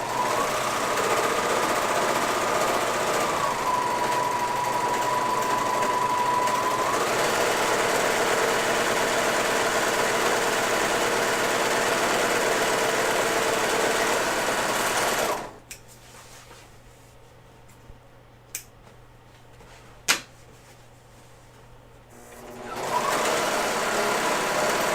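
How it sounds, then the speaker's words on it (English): A serger sewing machine runs steadily and loud for about fifteen seconds while finishing gaiter fabric, then stops, leaving a quiet room with a couple of sharp clicks before a low hum returns. "Alright, and serging is done."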